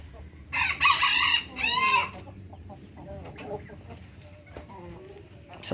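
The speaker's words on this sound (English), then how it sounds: "Look at all damn chickens and roosters and everything else in here." Chickens and roosters in a chicken farm: a loud rooster crows twice near the start, followed by scattered clucks and soft poultry calls over a busy barn background.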